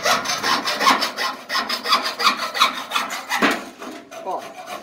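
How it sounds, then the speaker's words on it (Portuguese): A small handsaw cuts flush against a piece of wood set in a can, with steady, rhythmic back-and-forth rasping strokes, close and clear, with a brief pause near the end. "E vou serrar aqui, ó. Rente com a madeira"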